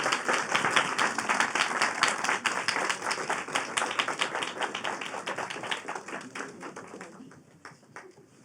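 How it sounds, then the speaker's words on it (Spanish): A TEDx audience at a university event applauding the organizing team, dense rapid clapping from a large crowd that stays strong and then gradually thins and fades toward the end. "también un aplauso para ellos"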